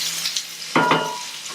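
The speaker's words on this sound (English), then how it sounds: "let that keep searing up on really high heat" Chorizo and seafood searing in a paella pan over really high heat make a steady, bright sizzle, broken by a short stirring scrape as pieces are turned, then the sizzling continues.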